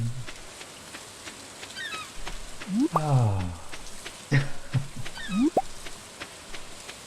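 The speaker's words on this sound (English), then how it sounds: "Rainy days in Stardew Valley are nice because it's calm, but also unsettling because it's so quiet." Soft, steady rain hiss falls over a farm in the video game Stardew Valley, a quiet wash that runs the whole time beneath brief chirpy tones and game blips.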